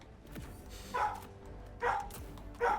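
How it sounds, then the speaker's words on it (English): A dog in a home barks excitedly three times in quick succession, each short yip-like bark spaced under a second apart over a low background hum. "Oh, okay, that's someone's dog."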